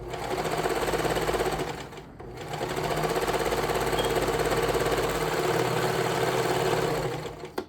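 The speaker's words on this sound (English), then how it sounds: "we're gonna sew these two pieces together" A sewing machine stitches garment seams on a leotard in a steady, continuous whir, close and loud, with a brief pause partway through before running on.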